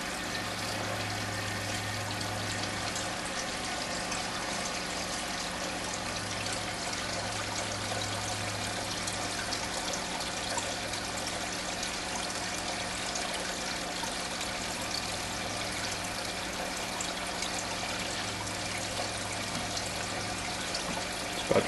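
Steady water trickling and pouring continuously as water drains from an aquaponics grow bed through a siphon, a constant gurgling flow with a low hum underneath, no voices.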